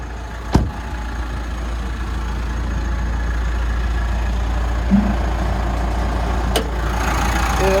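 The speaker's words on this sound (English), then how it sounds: "have a listen underneath the engine bay while she's running" A 2016 Mitsubishi Pajero Sport GLS engine idles smoothly from beneath the vehicle, making a steady low hum with a couple of brief clicks and knocks over it.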